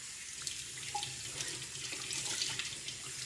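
Running tap water pouring into a sink while a squirrel carcass is rinsed, a steady close hissing splash with slight sloshing variations throughout, no talk.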